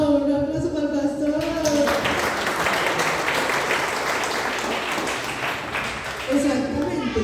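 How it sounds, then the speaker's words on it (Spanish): A church congregation at a children's day celebration breaks into applause for the pastor, a loud burst of clapping and cheering that swells in the middle and fades, with voices speaking before and after. "¡Un aplauso para el pastor!"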